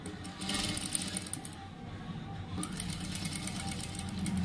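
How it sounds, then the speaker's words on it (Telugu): A sewing machine runs steadily and close up, stitching the front part of a prince cut blouse with a continuous mechanical hum that dips briefly midway. "రెండింటిని ఈక్వల్గా పెట్టుకుంటూ మనం పాదం వరుస కుట్టు అనేది వేసుకోవాలి"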